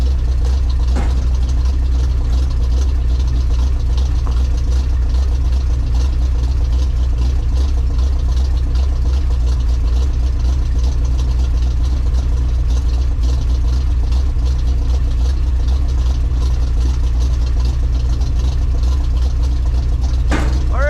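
A 1982 Chevy K10 truck engine runs steadily, a loud, deep, constant rumble with a low throbbing idle that fills the whole stretch without a break.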